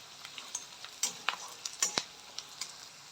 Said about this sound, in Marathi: पुन्हा एकदा आपण छान परतून घेणार आहोत